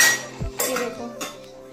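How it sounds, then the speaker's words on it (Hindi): Metal utensils clattering as a toddler pulls them off a dish stand, a few sharp clanks and jangling rattles in irregular bursts, close and fairly loud. "ये देखो चीकू, नो, पूरा स्टैंड खींच देता है गंदा बच्चा"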